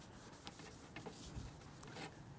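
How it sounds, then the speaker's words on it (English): A rag rubbing dull, faded aluminum window trim on a Mercedes, a faint continuous scrubbing rasp with soft repeated strokes. "And so I will sit here and rub and rub and rub and rub and rub."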